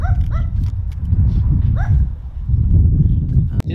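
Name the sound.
dog barking in the distance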